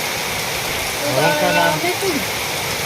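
Steady rain pours down in an even, close wash of hiss, and a voice briefly rises over it in the middle.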